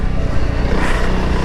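A motorcycle engine revs hard and steadily while the bike churns through thick mud, a dense, continuous roar up close with no break in the throttle.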